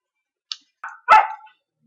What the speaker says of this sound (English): Little dog's continuing to play with old dog.